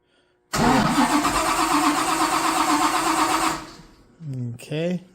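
Engine of a 1955 Chevy fitted with a blower turns over and cranks loudly for about three seconds, a steady close mechanical churn that cuts off abruptly, followed by brief talk.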